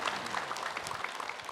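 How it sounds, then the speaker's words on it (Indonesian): A studio audience claps steadily, a dense patter of many hands heard from a slight distance, fairly quiet. "Boleh tepuk tangan Ibu."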